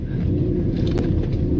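A supercharged 5.0 V8 Range Rover L322 with custom 200-cell catalytic converters, driving on a dirt road, gives a loud, steady, deep exhaust rumble that stays close and constant throughout.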